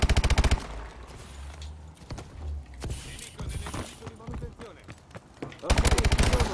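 Rapid automatic gunfire bursts in Call of Duty Advanced Warfare, loud and close at the start and end of the clip, with scattered shots and game noise between and a voice talking.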